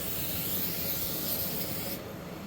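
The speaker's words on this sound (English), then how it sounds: "Gotta spray it with some Pam or cooking spray" A steady, close hiss of an aerosol canola oil cooking spray, lasting about two seconds before cutting off, with no voices.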